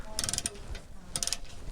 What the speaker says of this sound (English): I'm gonna torque all these down.